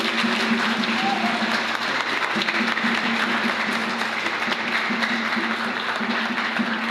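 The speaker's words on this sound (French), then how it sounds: "Monsieur Charles-Maille Justin Luison, que je vous demande d'applaudir, s'il vous plaît." Sustained audience applause fills a church during a thanksgiving mass for a scout group's anniversary, a dense, even wash of clapping with a low hum underneath and faint voices mixed in.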